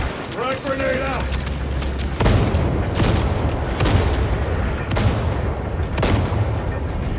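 A frag grenade blast and heavy gunfire in Warhammer 40,000: Space Marine 2, several sharp booming bursts through the clip, with a voice speaking briefly near the start.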